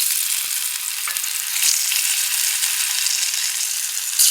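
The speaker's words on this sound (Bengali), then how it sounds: "আমি আগে এই যে কাঁচা কলাটা ভাজবো" Raw banana slices fry in a hot pan, giving a loud, continuous close-up sizzle. A couple of faint utensil taps come early.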